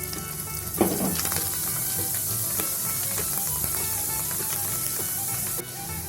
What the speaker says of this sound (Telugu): నూనె బాగా కాగింది కదండి. మనం ఎండబెట్టుకున్న రైస్ని వేసుకుందాం.